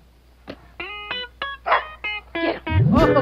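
An English Mastiff puppy gives a series of short, close yips and barks at irregular intervals, ending in a longer whining bark.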